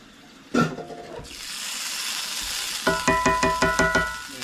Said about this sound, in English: Keep on stirring that, y'all.